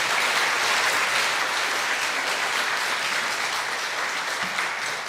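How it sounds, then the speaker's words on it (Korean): Dense applause from a large church congregation during a Sunday worship testimony service, sustained and even, gradually tapering slightly toward the end. "이때 박수가 나오는 거예요"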